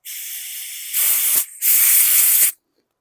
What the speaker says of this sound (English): Spray some carb clean down there if yours has been sitting a while.